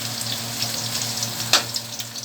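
Onions and garlic fry gently over low heat in a pan, a steady soft sizzle with a brief louder crackle partway through, no voices.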